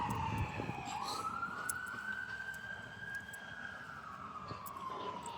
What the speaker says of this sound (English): I think that's ambulance.